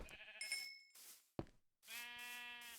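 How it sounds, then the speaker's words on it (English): Minecraft sheep bleat in short wavering cries, several in quick succession with a sharp click between them, fairly close and clear with no talk over them. "And now it's a white sheep and a chicken."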